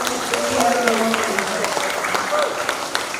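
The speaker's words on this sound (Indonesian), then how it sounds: "Kita berikan tepuk tangan yang meriah" Applause follows a church choir's performance in an Easter camp choir competition, a steady crowd clapping with voices and a few tonal sounds mixed in across a short stretch.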